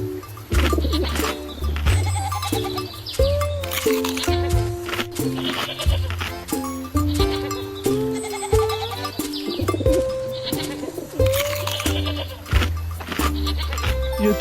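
Cartoon goats bleat repeatedly in a farm scene, several wavering calls overlapping with light background music and no speech.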